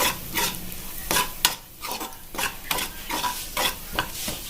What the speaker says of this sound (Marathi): आता हे छान प्रकारे आपल्याला हलवून घ्यायचं आहे